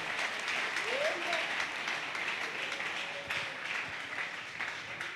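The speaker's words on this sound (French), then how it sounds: "Acclamez s'il vous plaît pour le premier administrateur." Sustained crowd applause for the first administrator at a general assembly of the ACMTF in Kinshasa, a dense steady clapping wash lasting throughout with faint voices mixed underneath.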